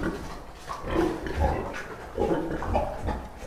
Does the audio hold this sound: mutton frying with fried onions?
no